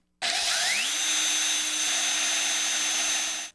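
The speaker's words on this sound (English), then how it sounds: "Next, we drill a 13/64 hole" A power drill bores a 13/64-inch hole, about 4 mm, through a metal antenna mounting plate, the motor spinning up quickly and then holding a steady loud whine for about three seconds before stopping.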